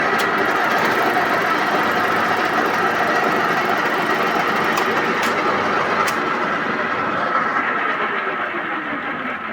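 A workshop lathe runs loud and steady while a worn John Deere tensioner is being repaired, with a continuous mechanical hum and drone that never breaks and no voices.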